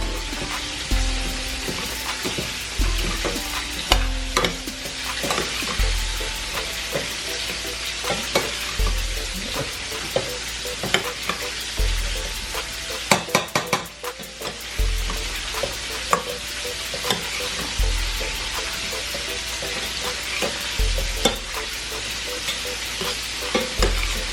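Rice toasting in a hot pan for Mexican rice, steady frying sizzle with repeated scraping stirs and spatula knocks throughout, up close and fairly loud, no voices.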